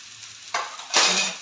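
A masala of tomato, chilli powder, coriander powder, turmeric and salt frying in a pan, stirred twice with sharp hissing bursts of sizzle close up.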